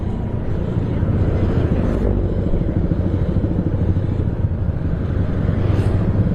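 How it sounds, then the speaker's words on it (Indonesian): Traffic jam at a busy three-way road junction on a motorcycle touring route, a loud steady rumble of engines close by with wind buffeting the microphone, no talk. "Ini macet, rame pertigaan ya."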